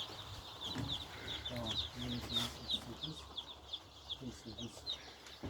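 Newly arrived chicks cheep constantly in high, rapid peeps while adult chickens cluck lower and intermittently nearby, all under a busy indoor coop hum.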